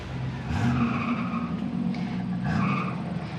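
A 1984 Pontiac Trans Am with its original, stock engine idles and revs nearby, a steady low rumble rising in two brief throttle blips.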